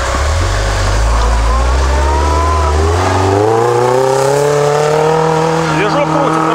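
A loud car engine revs up steadily, its pitch climbing smoothly over several seconds, close by and continuous.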